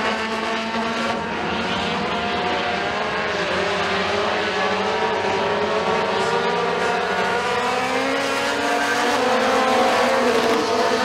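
Mini stock race cars roar around a dirt raceway during a Friday night feature, a steady loud pack of engines droning with rising and falling pitch as the cars pass, continuous throughout.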